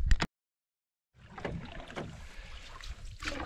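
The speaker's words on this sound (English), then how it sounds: "We're just paddling to the takeout." Canoe paddling across a lake in Northern Ontario backcountry, soft watery paddle strokes and hull sloshing close by, with light wind noise after a brief cut to silence.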